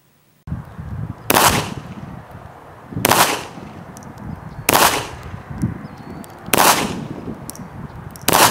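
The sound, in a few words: gunshots from a Remington RM380 pistol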